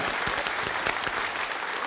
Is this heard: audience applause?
yes